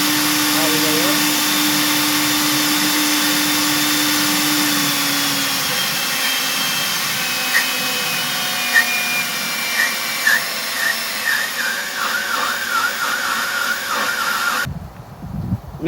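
An EGO leaf blower fitted with a replacement BLDC controller runs at full speed, giving a loud, steady whooshing roar with a high electric whine, until it cuts off abruptly just before the end.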